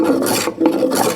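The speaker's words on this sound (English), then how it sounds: "So let's take a shaving." A hand plane takes a long shaving from poplar, giving two rasping, sliding strokes with a brief pause between them, close and fairly loud, with no talking.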